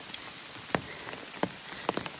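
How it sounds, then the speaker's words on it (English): Morning rain falling on the Appalachian Trail, a soft, steady wash of patter with a few sharper drips landing nearby, quiet and without voices. "We're starting off today in the rain."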